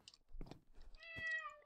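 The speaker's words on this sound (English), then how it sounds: "So this is my cat, Midnight Paw." A cat in a modded Minecraft game gives a short meow, faint and brief, preceded by small soft sounds.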